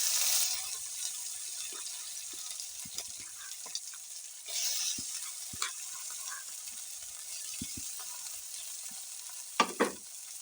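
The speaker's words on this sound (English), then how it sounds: "In the same saucepan, I put now the green onions." Green onions sizzling in a saucepan over an outdoor village cooking fire, a soft steady fry with occasional clinks and stirring scrapes, fairly quiet and without talk.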